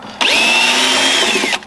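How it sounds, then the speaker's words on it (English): A power drill whines at steady high speed for over a second, loud and close, backing screws out of a wooden deck board, with a sharp start and stop. "you can just grab your drill and pull the screws out"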